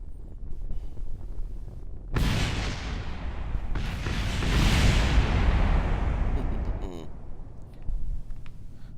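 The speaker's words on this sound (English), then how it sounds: "I'm just waiting for the explosion." A rocket explosion in the video game Kerbal Space Program bursts in suddenly with a loud crack, then rolls on into a long, heavy roar and rumble that swells before fading, followed by a fainter thump near the end.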